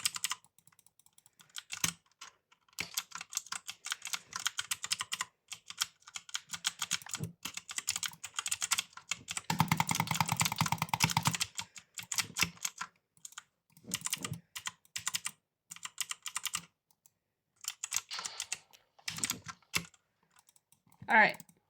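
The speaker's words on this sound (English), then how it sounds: "This could honestly be a ASMR keyboard." Mechanical keyboard keys clatter in rapid irregular bursts, close and crisp, with short pauses between flurries and a dense stretch of fast typing midway through.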